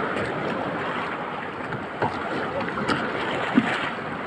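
Strong sea waves slosh and churn around a small fishing boat out on rough water, a dense continuous wash with a few knocks against the hull and faint wind.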